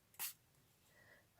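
A single short spritz of water from a spray bottle hits an artwork, a quick close hiss followed by near silence and a faint soft rustle.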